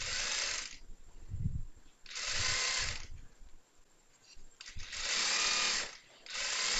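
A sewing machine stitching chudithar lining, running in three loud whirring bursts separated by quieter pauses with faint handling noise.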